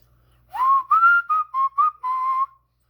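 A person whistles a short tune of six clear notes, close and steady, with no other sounds.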